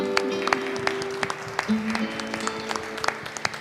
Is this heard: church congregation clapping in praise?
yes